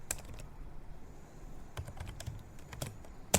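Keys clatter on a computer keyboard in short irregular bursts, close and fairly quiet, with a louder final keystroke.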